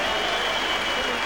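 At a boxing match, a crowd stands and applauds after the final round, producing a dense, loud wall of clapping, with a commentator talking over it.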